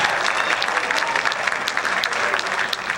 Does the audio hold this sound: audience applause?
yes